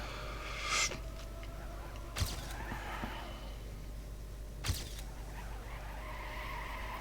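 In a racing video game, a car drifts through a corner with tire skid and squeal over a steady engine drone. There are a few brief swells and sharp bursts, and no talk.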